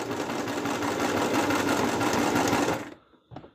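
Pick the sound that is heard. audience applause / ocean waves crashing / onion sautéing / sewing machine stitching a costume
sewing machine stitching a costume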